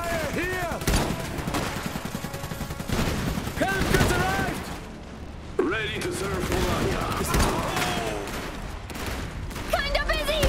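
Iron Harvest battle gunfire: repeated rifle and machine-gun bursts rattle through the whole stretch, loud and close, while voices shout over the fighting.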